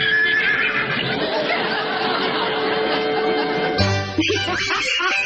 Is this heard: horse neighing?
yes